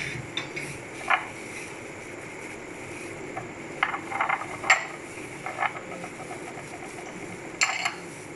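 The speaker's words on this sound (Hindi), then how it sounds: "अब हम सब चीज़ों को बाउल में डाल के मिक्स करेंगे" Spices being mixed in a bowl, with scattered light clinks and scrapes of a utensil against the bowl coming in short irregular bursts over a quiet background.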